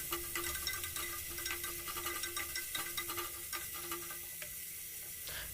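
Onions frying in a pan for a bachelor-style sambar, a steady close sizzle with faint stirring scrapes throughout and no voices.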